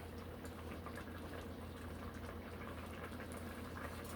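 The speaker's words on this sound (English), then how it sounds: "slowly cook the oranges and the peel, and just reduce down slowly" A pot of oranges and peel cooking slowly on low heat for marmalade, a faint, steady bubbling simmer with a soft continuous hiss, no voices.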